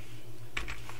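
Quiet typing on a computer keyboard, a short burst of a few soft key clicks close by in a calm room.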